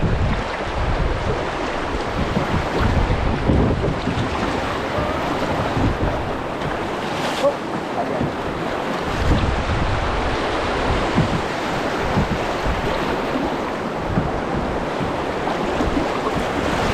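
Rushing whitewater rapids on the Little White River in Northern Ontario roar steadily nearby, a broad churning wash with some wind buffeting the microphone and no voices.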